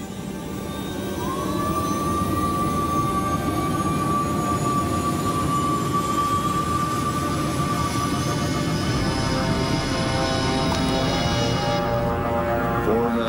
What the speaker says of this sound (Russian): Включить второй двигатель.